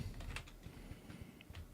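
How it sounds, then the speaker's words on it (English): Quiet keystrokes on a computer keyboard sitting at an awkward angle, a soft uneven patter of taps with short gaps, heard alone at low level. "My keyboard's at a weird angle, so I'm not covering the right keys."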